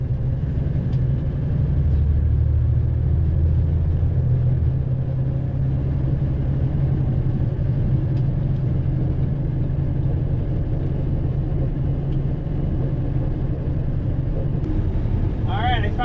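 A Kenworth truck engine drones steadily under load, a loud continuous low rumble with no talking over it.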